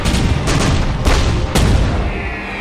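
Loud, booming gunshots ring out in a rapid cluster of four or five, close and reverberant.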